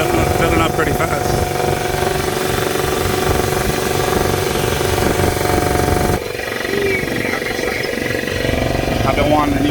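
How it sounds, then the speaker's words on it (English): A new shop air compressor runs and fills its tank with a loud, steady mechanical drone that shifts slightly partway through. "I've been wanting a new compressor for years now."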